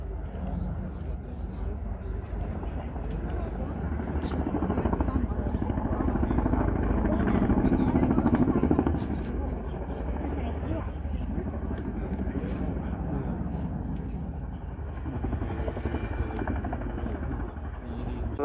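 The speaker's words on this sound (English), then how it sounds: "This display today demonstrates how surprisingly maneuverable this large helicopter is." A Boeing Chinook HC6 twin-rotor helicopter roars steadily overhead at an air show, its heavy rotor thump swelling louder midway before easing off, with a voice speaking over the engine noise.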